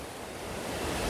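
Broad, steady rushing water from a forceful waterfall in Wayanad, Kerala, a continuous roar that swells slightly louder toward the end, with no voices.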